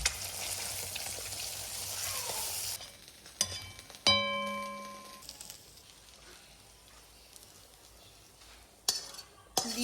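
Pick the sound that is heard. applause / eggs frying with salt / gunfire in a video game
eggs frying with salt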